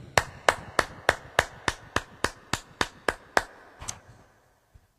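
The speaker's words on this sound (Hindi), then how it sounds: "एक अच्छी ताली मेरे प्रभु के लिए" A small church audience gives a short round of applause for the Lord after a prayer: about a dozen sharp, evenly spaced claps that slow and fade out.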